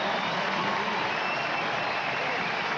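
A huge football crowd roars in sustained, dense cheering and applause at Taylor Field in a Canadian Football League game as the Saskatchewan Roughriders score a touchdown, a loud unbroken wash of noise with no pauses.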